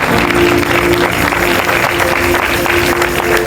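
A church congregation applauds in a dense, steady wash of clapping for about three seconds, with a sustained musical tone held underneath.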